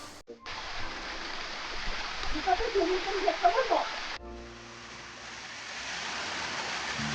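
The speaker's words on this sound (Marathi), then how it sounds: "जंगलातले गार पाण्याचे झरे वाहत होते त्यांचा झुळझुळ असा मंजूळ आवाज कानी पडत होता" A cold forest stream flows through the Andharban jungle in Maharashtra, a steady broadband rush of running water close by, with a brief bubbling stretch before the sound dips and settles into a smoother, even flow.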